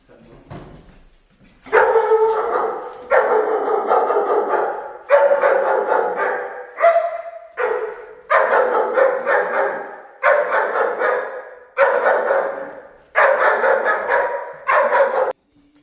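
A small dog barks aggressively in repeated rapid bursts, about ten close, loud volleys of sharp barks with brief pauses between them.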